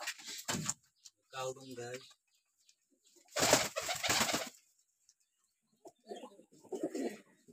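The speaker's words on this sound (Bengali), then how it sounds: "প্রত্যেকটা কবুতরই হাই ফ্লাই করা" Pigeons at a farm of high-flying Lahori and Sirazi breeds coo in separate close bursts of throaty calls, with quiet gaps between them.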